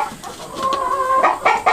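Barred Rock chickens just let out of their coop cluck and call in a steady overlapping chorus, close and fairly loud, with sharper squawks toward the end and no talk.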